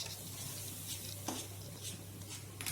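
Potatoes being sautéed in a pan for Bengali dim kosha (egg curry) give a steady, soft sizzle with occasional scraping stirs and faint utensil clicks, close by and with no talking.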